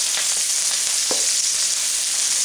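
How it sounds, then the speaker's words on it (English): Onions and peppers sizzle and fry steadily in a pan for a curry, a continuous close hiss with a brief stir or clink partway through. "Getting nice and sizzly there. I'm just going to cook these until they're translucent."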